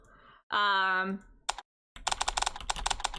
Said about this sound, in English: You can change the typing sound.